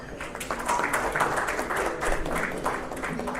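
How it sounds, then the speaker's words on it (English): A crowd applauds with steady, dense clapping that stays at an even level throughout, heard from within the room at a cricket league closing ceremony in Dubai. "Can I have a big round of applause?"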